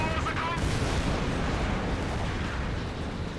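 Battlefield combat in Company of Heroes 2 as a Panzer IV tank is destroyed, dense rumbling explosions and artillery booms layered with continuous gunfire, loud and constant with no pause.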